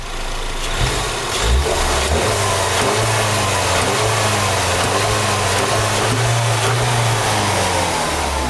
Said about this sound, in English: Guys, listen to the sound of this engine. It's not a sport engine.